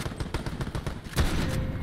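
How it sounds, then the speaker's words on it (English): Rapid volley of marksman rifle shots in the Roblox game Core, sharp repeated cracks in quick succession with one heavier boom near the end, loud and close with no talking. "Didn't realize I was using a marksman rifle here."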